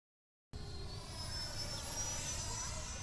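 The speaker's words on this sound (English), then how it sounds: "For a little plane, it's got some decent power." A small Freewing radio-controlled model airplane flies overhead at a field, its motor a steady, high-pitched whine that holds at moderate loudness with no talk.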